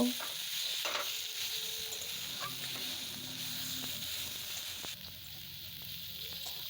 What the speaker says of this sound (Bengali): এক চামচ হলুদ, 1 চামচ লঙ্কার গুঁড়ো দিয়ে ভালো করে সব একসাথে কষিয়ে নেব।